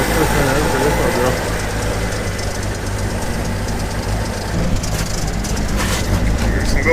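A 1965 Chevy C10 pickup truck engine runs and idles steadily, a continuous loud low rumble throughout, with a brief rev or shift near the end.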